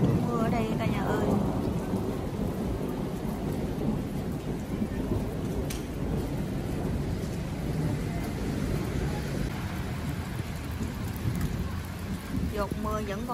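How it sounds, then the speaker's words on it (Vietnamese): Sustained downpour of heavy rain in Germany with rolling thunder, a thick unbroken roar of falling water and splashing heard from under shelter, steady and loud for the whole stretch. "mưa rơi nặng hạt đó cả nhà ơi"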